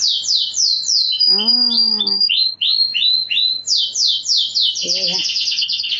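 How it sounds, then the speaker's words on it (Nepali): Small bird chirping in a rapid series of high, bright tweets close by, with a couple of short squawky calls mixed in among the chirps. "यो चरा कस्तो चराले चिक चिक चिक चिक चिक भन्छ"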